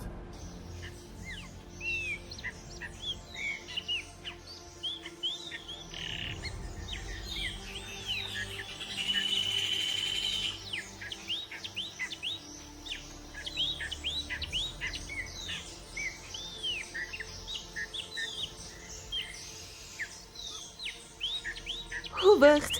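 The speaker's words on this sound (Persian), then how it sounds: "پرندگان پرند." Many birds chirp and sing together outdoors, a dense chorus of repeated tweets and trills that runs throughout at moderate loudness over low background noise.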